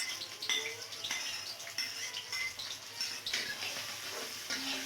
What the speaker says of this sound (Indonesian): Tumis sampai agak layu dan mengeluarkan bau harum